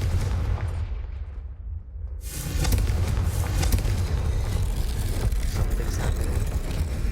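A Confringo blasting spell in Hogwarts Legacy goes off with a short whoosh and a sudden loud explosive boom, followed by a lingering rumbling, crackling echo in a dark corridor.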